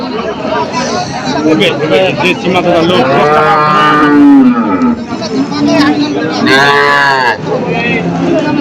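A dairy cow at a cattle market in Thakurgaon, Bangladesh moos loudly and repeatedly, long drawn-out lows up close, while people talk nearby.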